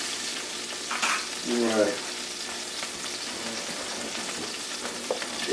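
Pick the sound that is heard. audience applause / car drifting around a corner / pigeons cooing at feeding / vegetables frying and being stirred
vegetables frying and being stirred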